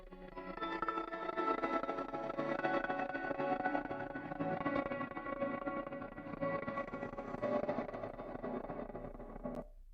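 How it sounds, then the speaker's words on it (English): A hip hop loop is treated with the Soundtoys Tremolator effect, giving a dense, pulsing, slightly gritty texture that plays continuously at moderate level with no voices over it, cutting off abruptly at the end. "and then I put the tremolator on there, and now it's going to sound like this."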